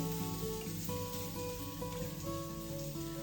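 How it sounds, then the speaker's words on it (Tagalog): Sardines sauté with plenty of black pepper in a pan, making a quiet, steady sizzle. Soft music plays underneath. "So, gisa-gisa lang natin."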